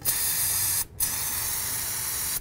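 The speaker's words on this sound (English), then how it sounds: "Just gonna take a little brake parts cleaner and just clean this area off." Brake parts cleaner hisses from an aerosol can onto the front brake of a 2000–2006 Chevy Tahoe in two close, steady bursts, with a short break between them and no talk.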